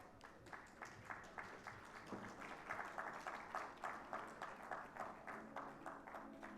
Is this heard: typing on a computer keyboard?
no